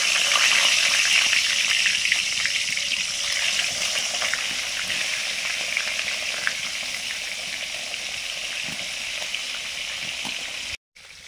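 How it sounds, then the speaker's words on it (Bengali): Steady, loud sizzling of eggplant frying in hot oil, continuous crackle with no talking, cutting off abruptly near the end. "পাঁপড় ভেজে নেওয়ার পরে বেগুনটা ভেজে নিচ্ছি।"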